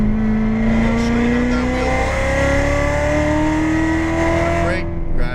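A Chevrolet Corvette C7 Z06 on a race track gives a loud, continuous engine drone whose pitch climbs as it downshifts and revs, with a brief change near the end.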